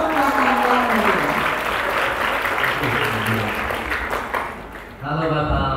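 Lively audience applause at a diversity event session in Batam, steady crowd clapping under a speaking voice that breaks off near the end.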